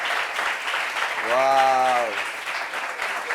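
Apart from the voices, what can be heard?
audience applause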